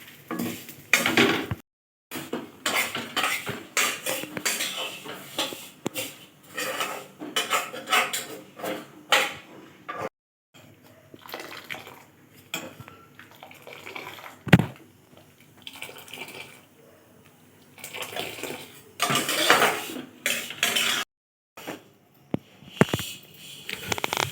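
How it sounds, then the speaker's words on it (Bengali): A spoon or spatula scrapes and clinks against a metal pot while food is stirred in a home kitchen, in irregular bursts separated by short pauses, close and fairly loud. "ভালো করেই নাড়াচ্ছি"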